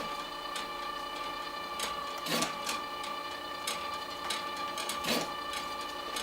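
A LAB500 price tag labelling machine runs with a steady mechanical hum, light regular ticking and two sharper clacks as cardboard and paper tags are fed and labelled, close and continuous without talk.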